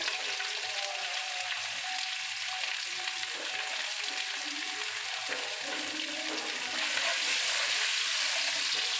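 Cashews, raisins and grated coconut sizzle and crackle in hot oil for moong dal khichuri, a steady close frying hiss that continues without pause, with a brief stir and no talking.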